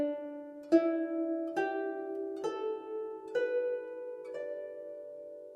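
Plucked zheng, the Chinese zither, tuned to a D E G A B pentatonic scale: six clear notes struck at steady intervals, each ringing with a bright attack and sustained decay, played alone without voices.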